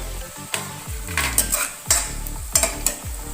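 Half-cooked capsicum with a spoonful each of cumin and coriander powder is stirred in a pan, heard as repeated scraping strokes and clanks of a spatula over a soft sizzle, several distinct stirs in a few seconds, with no voices.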